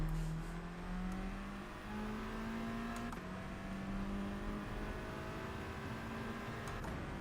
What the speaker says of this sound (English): I'll try not to rev it out so much then.